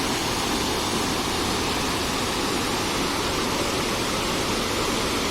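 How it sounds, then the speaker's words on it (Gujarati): Waterfall at the Khodiyar temple at Galdhara, Dhari, its falling water making a steady, dense roar that fills the whole clip without a break and carries no voices over it. "વોટરફોલનો કેવો અવાજ આવે જો તમે ખાલી જો કેવો ધોધ પડે"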